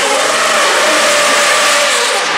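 A Formula 1 car engine revving hard on a public road, a loud, steady high-pitched whine that rises slightly and then eases off.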